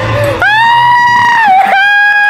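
A person lets out a long, loud, sustained scream in a horror hide-and-clap game setting, wavering in pitch with a brief break before continuing, close and alone.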